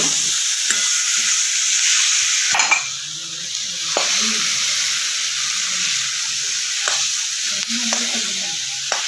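Green chillies roast in a pan for a mirchi thecha, giving a loud, continuous close-up sizzle and hiss, broken by a few sharp clinks and scrapes of stirring.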